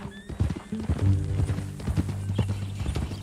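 Horse hooves clip-clop at a steady walking pace in Red Dead Redemption 2, close and clear, with a horse whinnying and a low musical score underneath.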